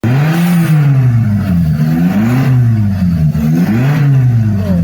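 A petrol car engine on a simulator revs steadily as the accelerator pedal is pressed, a loud continuous drone whose pitch swells and dips in repeated waves, with no talk.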